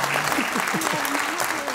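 Short burst of audience applause at a public talk, a crowd clapping steadily for under two seconds while a voice speaks over it.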